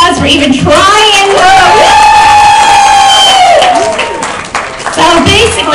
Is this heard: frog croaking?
no